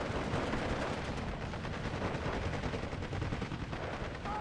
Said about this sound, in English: Artillery coming in hot.